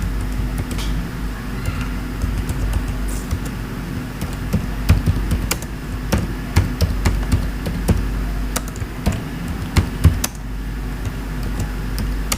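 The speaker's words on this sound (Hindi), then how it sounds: "यहाँ पे हम अपना एड्रेस टाइप कर देंगे।" Keyboard typing while an address is entered into a text box in Microsoft Word: scattered, irregular clicks over a steady low hum, close and fairly faint, with no talk.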